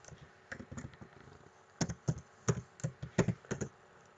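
Typing on a computer keyboard, close and fairly quiet, with scattered clusters of sharp key clicks that start sparse and grow into a quicker burst of keystrokes toward the end.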